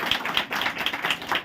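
Scattered applause from a church congregation, a loose patter of hand claps with a few sharper accents, close and moderately loud with no voices over it.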